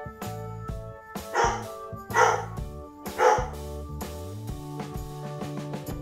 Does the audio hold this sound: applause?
no